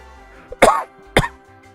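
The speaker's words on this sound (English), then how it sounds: "Wow, I haven't coughed for a while" Two sharp, close coughs from a man, one right after the other, loud against a quiet background with faint low tones from a racing game.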